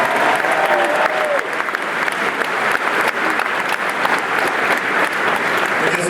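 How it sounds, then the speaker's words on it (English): A graduation audience gives a loud, dense round of applause that fills a large hall for several seconds. Scattered voices and cheers rise from the crowd beneath the clapping. "Please, another round of applause for Ed Harvey."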